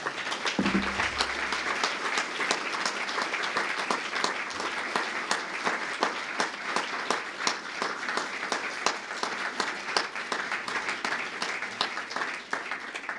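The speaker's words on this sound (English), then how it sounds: "a big round of applause again for our 4 winners" Prolonged applause for award winners at an economics conference session, an even, fairly soft patter of many hands clapping throughout, with a short low thump early on.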